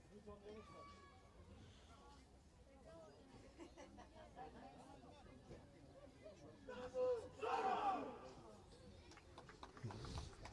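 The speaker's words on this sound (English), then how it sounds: "Very strong cheer there from the Tabusoro team." A rugby team shouts a loud group cheer before a Fiji match, a short roaring burst of many voices rising out of crowd murmur, with a commentator talking over it.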